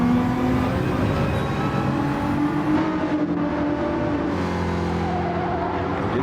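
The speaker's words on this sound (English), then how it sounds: "You can hear again the tire noise" Sustained tire roar from a Toyota GR Cup race car at speed at Barcelona, a loud droning whine that shifts in pitch as the car runs.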